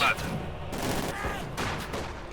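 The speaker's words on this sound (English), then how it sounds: "Submachine guns flaring away." Submachine guns fire in the Company of Heroes 2 real-time strategy game, a dense rattling burst of gunfire that runs continuously through the moment, loud and close.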